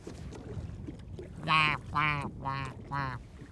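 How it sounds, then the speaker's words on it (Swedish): Four loud, raspy duck quacks in a steady, evenly spaced series, heard fairly close outdoors during a duck hunt, over a faint rustling background. "Identiskt andljud."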